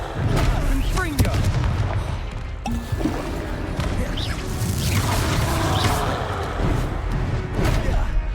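Confringo fire spell blasts in the wizarding video game Hogwarts Legacy: repeated thumping booms and crackling impacts over a busy, continuous battle din, loud and dense, with voices talking through it.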